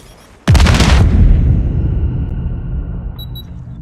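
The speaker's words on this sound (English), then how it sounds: "Grenade! Move!" A grenade explodes in Call of Duty Mobile: one sudden loud blast that rumbles and decays over a few seconds, followed by a brief high electronic tone.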